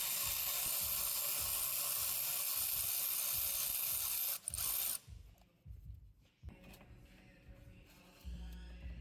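A ratchet handle with an 8mm Allen key socket turning out the rear brake caliper bolts on a 2018 or later Ford Focus: a steady, quick clicking that runs for several seconds, then breaks into scattered clicks and clanks.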